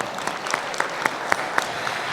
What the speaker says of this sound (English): If we can please give them another round of applause.